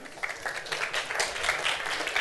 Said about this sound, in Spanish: no sea que los aplausos vayan en balde